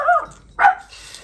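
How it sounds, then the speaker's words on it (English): A dog barks twice in quick succession, the sharp yaps close and fairly loud, alone with no talking. "One of the neighbour's dogs started barking, so she thought she'd join in."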